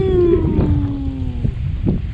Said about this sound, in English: Here comes the jet boat